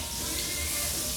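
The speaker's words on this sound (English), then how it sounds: "Even that butter is sizzling." Butter sizzles in a hot skillet, a constant dense hiss with no voice over it.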